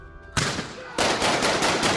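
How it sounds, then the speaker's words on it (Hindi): Gunfire as thugs open fire on police: a sharp burst of loud shots erupts after a brief quiet, then a second, heavier volley of rapid, overlapping shots rattles on. "वो गुंडे पुलिस वालों पर फायरिंग करने लगते हैं।"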